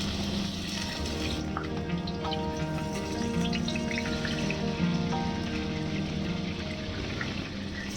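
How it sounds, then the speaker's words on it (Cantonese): Half a duck, its skin rubbed with dark soy sauce, frying skin-side down in hot oil in a wok: a dense, even sizzle with fine crackling spatters, close and constant. "將鴨皮向下啦煎上色"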